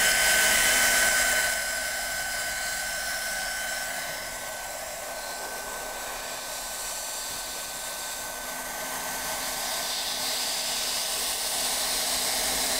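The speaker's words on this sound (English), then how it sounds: "You can see the weld filling up the gap" Welding on a motorbike fills a gap in metal with a steady close hiss and faint crackle, louder at first, then settling into an even rushing drone.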